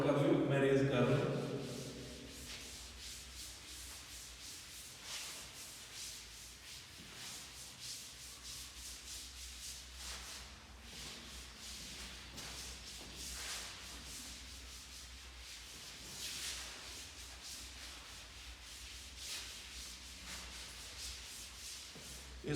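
A duster rubs steadily across a classroom board, wiping off written work in a continuous soft scrubbing that runs for about twenty seconds at low, even volume, with faint speech in the background.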